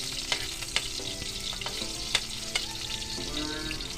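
Garlic sizzling in a hot pan while cooking Filipino adobo with chicken feet and heads, a continuous close frying hiss broken by several sharp clicks and stirring scrapes.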